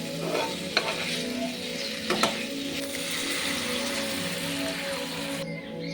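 Capsicum, cauliflower and previously fried potatoes are stir-fried in a pan, giving a close, steady sizzle broken by scraping spatula strokes and a few sharp clinks, with no voices.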